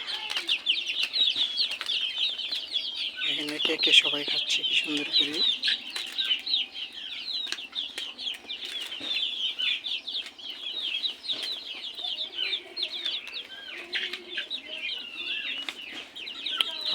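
Young chickens fed papaya leaves cluck and chirp busily up close, with repeated calls and a brief flurry of flapping, while someone talks over them.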